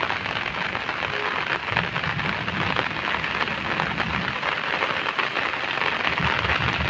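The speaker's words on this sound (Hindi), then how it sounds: "ये देखो कैसी बारिश हो रही है।" Heavy rain pours steadily, a dense hiss of drops drumming on surfaces, close and constant with no voices.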